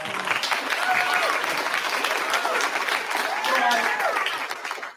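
A town hall audience applauds in a dense, sustained wash of clapping that stays loud and even for the whole stretch, with faint voices mixed into the crowd.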